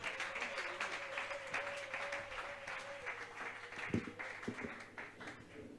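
A church congregation applauds during a worship service, steady mixed clapping with a sustained tonal hum and a few sharper claps near the end.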